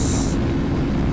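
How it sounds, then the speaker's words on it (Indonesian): Strong wind roars against a motorcycle riding at high speed on a Malaysian toll highway near Kuala Lumpur, a loud, steady low buffeting that fills the whole short stretch with no voices. "di kecepatan tinggi itu angin menerpa sangat kencang"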